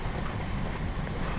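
Strong wind buffets the deck of a 31-foot Island Packet sailboat crossing Lake Michigan at night, a loud continuous rushing roar with rumbling mic noise and a hint of water.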